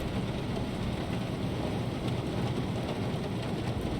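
Steady rain hisses in the U-Boat naval video game, with a low rolling rumble of thunder underneath, continuous and fairly quiet with no talk.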